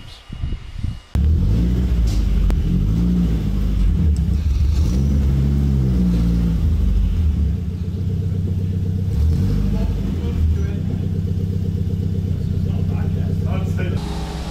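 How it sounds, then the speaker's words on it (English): Volvo S40 fitted with a Holset HX40 turbo being driven off a trailer, its engine starting abruptly and then rumbling and revving at close range, with a voice talking over it. "I'm just unloading the car off the trailer now"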